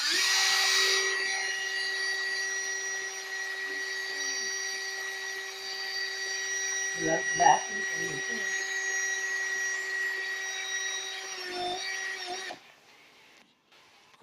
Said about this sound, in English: I'm just going easy with the drill.